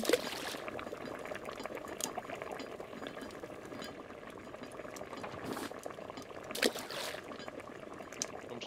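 Pot bubbling and simmering during cooking in the survival video game Raft, a steady boiling texture with a few brief louder splashes, fairly quiet throughout and with no talking.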